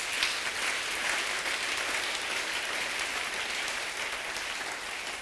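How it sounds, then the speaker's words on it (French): Church congregation clapping and cheering during a worship service, dense sustained applause from a large crowd filling the room at an even level throughout. "est-ce qu'on peut acclamer la parole de Dieu?"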